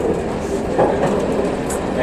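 A fast train runs on rails, heard from inside the driver's cab, with a steady loud rumble and faint rhythmic wheel clicks.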